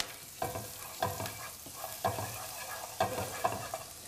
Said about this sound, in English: First, garlic goes in, about a teaspoon worth of garlic.